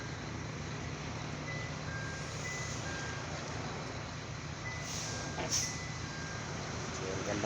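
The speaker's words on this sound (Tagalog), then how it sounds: "Maraming truck pa mga kaidol, di pa nakasakay no." Trucks boarding a ship give off a steady heavy engine rumble with faint, evenly spaced reversing beeps repeating in the distance, and a voice talks over it.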